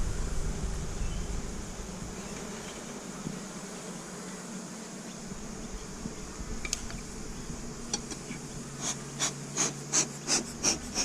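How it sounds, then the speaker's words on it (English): Honeybees hum steadily around an open Super Bee Box hive, a close, continuous buzzing drone, with a run of rhythmic clattering taps near the end. "There's quite a lot of bees here."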